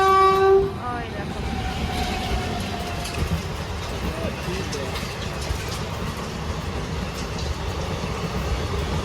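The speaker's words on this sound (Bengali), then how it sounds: "ট্রেন দেখার জন্য অধীর আগ্রহে দাঁড়িয়ে" A passenger train arriving from Katwa rumbles past steadily close by, with a short loud horn blast at the very start giving way to continuous rail noise and clatter.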